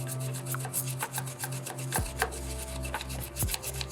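A brush works gritty cleaning paste into the fins of a CPU water block, making steady, close, rhythmic scrubbing strokes with no talk over them.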